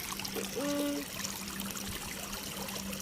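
Rainwater flows and trickles after a downpour, a faint, continuous dribbling with a low steady hum and a brief tonal whine early on.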